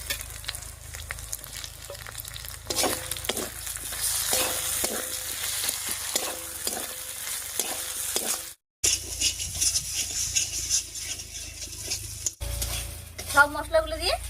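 Ground spices with coriander and cumin paste, split tomato and green chillies are stirred and fried in a pan for a snakehead fish curry, giving steady sizzling with repeated scraping strokes and metal clinks against the pan.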